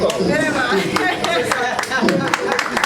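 Scattered, uneven hand claps from an audience at a conference on youth and entrepreneurship, sharp individual smacks popping through a room full of ongoing chatter and talking voices.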